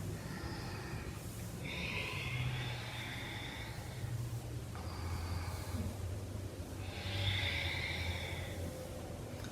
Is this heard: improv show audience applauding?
no